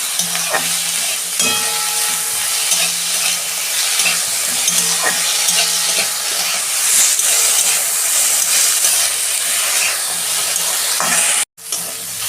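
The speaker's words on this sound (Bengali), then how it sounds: "এই আদা রসুন সব একসঙ্গে আমি একটু ভেজে নেবো।" Ginger and garlic fry together in a pan with a loud, continuous sizzle and hiss, joined by occasional scraping stirs, then briefly cut off near the end.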